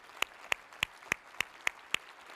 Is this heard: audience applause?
yes